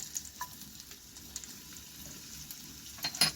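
Chopped ginger and garlic fry in a pan while a spoon stirs them. A soft, quiet sizzle runs throughout, with a few light scrapes and clicks near the end.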